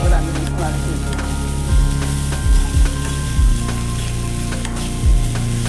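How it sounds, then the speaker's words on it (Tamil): Mango pieces sautéing in oil for mango pachadi, a steady loud sizzle with occasional spoon scrapes and stirring knocks throughout. "எண்ணெயில் நல்லா கொஞ்சம் நேரம் ஒரு 5 நிமிஷம் வதக்கி விட்டுருவோம்"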